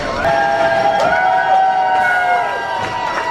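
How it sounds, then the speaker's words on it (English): A roller coaster train at Knoebels amusement park passes with a steady screeching, whistle-like tone from the rails, loud and near, over a busy background rumble. "There's the last train."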